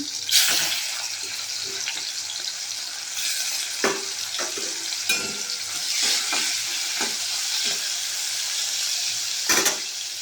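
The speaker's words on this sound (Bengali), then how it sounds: "তেলটা গরম হয়ে গেছে, চিংড়ি মাছগুলো ভেজে নেব" Prawns frying in hot oil, a steady broad hiss and sizzle with occasional sharper pops and crackles, close and continuous, no voices.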